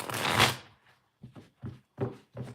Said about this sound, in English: Let me shuffle the cards a little bit.